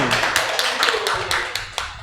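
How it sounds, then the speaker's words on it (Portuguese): Scattered applause for a crew member on a Catholic podcast: several sharp, uneven claps from a small group, close and fairly quiet, with faint speech underneath. "uma salva de palmas para o nosso irmão"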